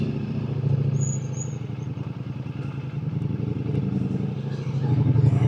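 Ducati Multistrada V4 Pikes Peak motorcycle ridden along a rough off-road track, a close, throbbing engine drone with rattling clatter that rises toward the end.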